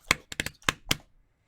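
Fingertips tapping on a very skinny person's bare chest, giving a clicky, mechanical-keyboard-like sound: five short, sharp knocks in an uneven rhythm, close and fairly loud, with no talking.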